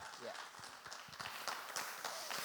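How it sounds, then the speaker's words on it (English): At a showcase finale, an audience claps for a performer returning to the stage, scattered hand-claps that are faint and somewhat distant and build slightly louder toward the end. "Let's give him a big round of applause, everybody."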